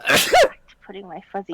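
A single sharp sneeze close by, followed straight away by a person speaking.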